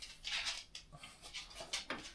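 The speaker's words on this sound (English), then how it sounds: "That's my dog making all that noise." A pet dog makes noise in a room where a sim racing wheel is set up, heard as a few faint, short bursts of whining or yipping spread across a couple of seconds.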